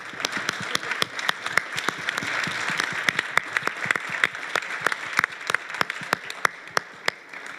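Audience applause at a youth plenary session in Berlin, a moderate crowd clapping with distinct sharp individual claps standing out, steady for several seconds.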